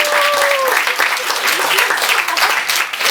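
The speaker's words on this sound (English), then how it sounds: "Can we all get a round of applause for Alicia and Celeste?" Wedding guests applaud the bride and groom in loud, dense clapping that holds steady throughout, with a short voice or tone briefly audible at the start.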